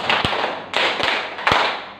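Sharp hand claps, several distinct strikes spaced in a steady pattern, close and crisp with short gaps between them.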